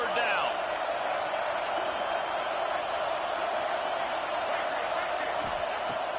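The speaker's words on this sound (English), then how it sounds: "Decibels rising as the crowd gets behind this defense on 3rd down." Dense, sustained roar of a football stadium crowd rising behind the defense on third down at a South Carolina game, steady and loud with a broadcaster talking over it.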